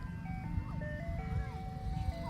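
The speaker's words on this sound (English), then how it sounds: "They have an ice cream truck today." An ice cream truck at a park plays a tinkly electronic melody at moderate distance, steady over a low rumble of engine and outdoor ambience.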